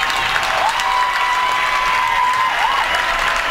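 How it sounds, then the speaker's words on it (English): Basketball fans at a girls' 4A area championship game between Mount St. Mary and Douglas clap rhythmically in a dense, steady wave of applause filling the gym, with a sustained whistle-like tone riding over the crowd noise. "You can start to hear the rhythmic clapping of the Mount St. Mary fans who have made the trip."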